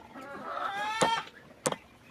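A chicken makes soft, drawn-out clucking sounds, joined by a couple of short sharp clucks, fairly quiet and close.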